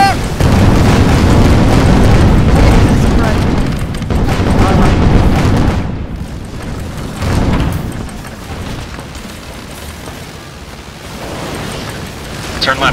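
Airship guns and rockets fire in the online game Guns of Icarus Online, producing a dense, loud barrage of booms and bursts that runs continuously, easing slightly toward the end.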